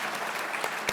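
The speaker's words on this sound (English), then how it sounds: "round of applause" A crowd of museum members at an exhibition opening applauds, a brief, even wash of many hands clapping at close range.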